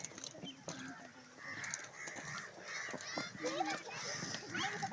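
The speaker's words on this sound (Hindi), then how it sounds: "ज़बरदस्त परिंदों की आवाज़ें आ रही होती हैं" Birds call in a hillside park in Karachi, honking, goose-like cries rising over a quiet background and chatter of people talking nearby, the calls fairly faint and scattered throughout.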